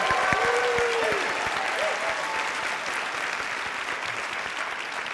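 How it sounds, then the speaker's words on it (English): Live audience applause in a lecture hall after a philosophy program, sustained dense clapping from a crowd with a few brief tonal sounds at the start, fairly loud and unbroken before gradually easing. "Give yourselves a round of applause."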